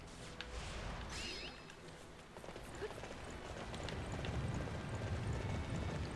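Horse hooves galloping in the video game Dynasty Warriors 9, a steady rhythmic clip-clop running through the whole stretch beneath game ambience, growing slightly fuller toward the end.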